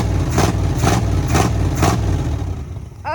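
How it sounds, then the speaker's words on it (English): A 1966 Buick Sport Wagon engine, still cold, is blipped four times in a row, each rev rising sharply from the low idle rumble before the engine settles back down, all heard close by. "let's see how it revs."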